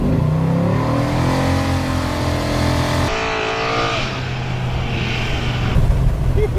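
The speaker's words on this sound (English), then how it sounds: "It does good burnouts." A hot rod's engine revs hard during a burnout on a paved road, a loud droning roar with a clear pitch jump midway and gritty tire noise beneath, without talk.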